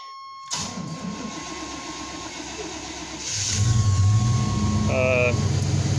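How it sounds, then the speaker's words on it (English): A 1988 GMC Jimmy with a fuel-injected 350 V8 cranking and firing up, a short starter whir, then the engine catching and settling into a louder steady idle, close by, with a voice briefly heard. "let's start by firing it up, see if she starts"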